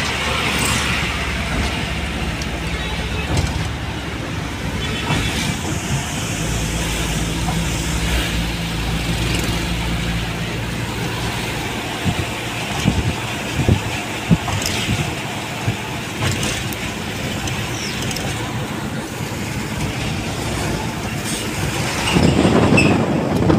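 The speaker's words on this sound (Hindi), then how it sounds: "बड़ा रश है मोटरसाइकिल का बड़ा रश है" Heavy motorcycle traffic on a busy road near Faisalabad, Pakistan, heard as a continuous dense roar of engines and passing vehicles with occasional knocks, steady and fairly loud throughout.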